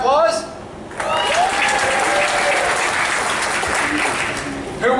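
A cruise ship show audience bursts into loud, sustained applause lasting several seconds, with a comedian's voice heard just before and after the clapping.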